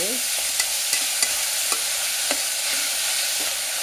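Onions frying in a pan for Bagara rice, a steady loud sizzle with a few sharp clicks of stirring scattered across it, no voices.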